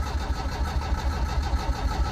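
Carbureted engine of a 1972 Toyota Corolla TE28 with fuel supply trouble, cranking and catching into a rough, steady idle that rumbles close by and alone, with no talk.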